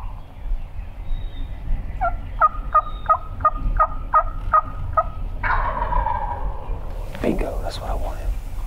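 Wild turkey gobbler gobbling outdoors on a mountainside, answering a series of calls: a run of short clucking yelps followed by a loud, rattling gobble, with faint whispered talk nearby.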